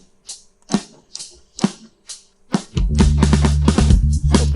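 Isolated bass track from a song: a few sparse, clicky percussive hits at first, then deep, sustained bass notes enter loud and steady, plucked in a regular rhythm with no other instruments.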